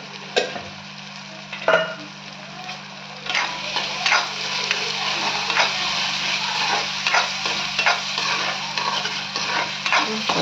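Chicken pieces frying in oil for chicken thokku, a steady close sizzle broken by repeated sharp scrapes and knocks of a spatula stirring against the pan, with no talking.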